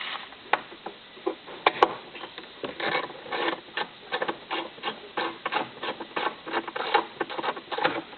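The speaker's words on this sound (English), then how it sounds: "You need to use a long extension bar. Yep. From now. And you can remove that 10mm bolt in there." A ratchet on a long extension bar works a 10mm bolt out of a 2006 Nissan Patrol dash, giving a steady run of quick close clicks in an uneven rhythm with no voices.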